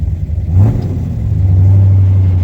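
Dodge Challenger engine fitted with FiTech fuel injection revving up, a loud close rumbling rise in pitch that holds and builds toward the end, with no talking.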